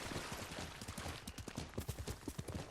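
Horse hooves clip-clop steadily in Ghost of Tsushima, a rhythmic run of muffled thuds under a busy game soundscape, loud and close.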